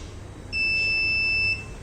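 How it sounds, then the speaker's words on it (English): A steady electronic buzzer tone from a Raspberry Pi blind-assist stick sounds for about a second while its switch is held, shrill and continuous, then cuts off, over a low background hum. "It will give the beeping till you hold the switch."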